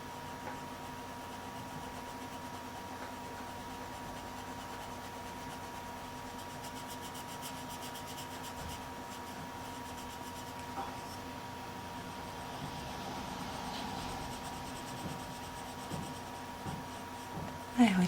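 Colouring pencil lightly rubbing on paper while shading a pink butterfly in a Johanna Basford Flourish colouring book, a soft continuous scratchy hiss under a steady background hum, fairly quiet throughout.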